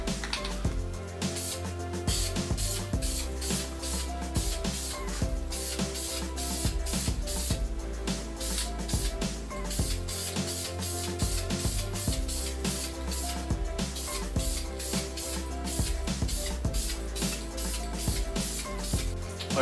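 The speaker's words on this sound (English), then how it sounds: "So I'm just spraying without masking off the tire" An aerosol spray paint can hisses continuously in long bursts with brief pauses while painting an alloy wheel, close and fairly loud.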